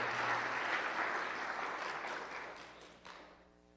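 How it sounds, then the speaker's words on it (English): Applause at a school awards ceremony for the 2022 Freedom Pack, a soft, distant crowd clapping that fades gradually toward the end, with a faint low hum beneath. "Please give a round of applause for our 2022 Freedom Pack"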